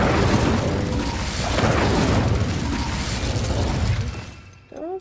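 An Incendio fire spell cast in Hogwarts Legacy: a dense, loud roaring whoosh of flame and crackle that sustains for several seconds and then drops away abruptly near the end.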